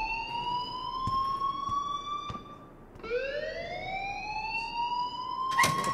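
A fire alarm in the video game Life Is Strange wails in rising siren sweeps. The tone climbs steadily, drops, and climbs again under a faint background of scattered clicks and thumps.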